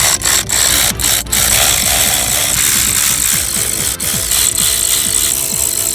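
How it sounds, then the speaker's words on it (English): Power tool driving bolts into car parts, loud buzzing whirrs and repeated tightening bursts with rattly impacts, alongside sharp clicks near the start, close and dominant without speech. "So now, let's go ahead and bolt everything down."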